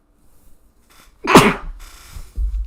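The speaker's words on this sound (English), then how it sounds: "Hold on, I gotta sneeze real quick." A single sharp, loud sneeze up close, preceded by a brief quiet intake of breath and followed by a low rustle.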